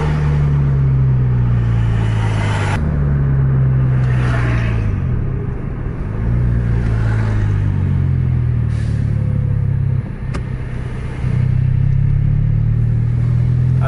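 Intercity bus from Aceh to Medan rumbling past before dawn, a loud heavy diesel drone that rises and shifts through gear changes over about fourteen seconds, close to the road.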